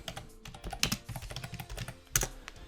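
Quiet computer keyboard typing, a quick irregular patter of keystrokes with a couple of sharper key hits, heard alone without speech.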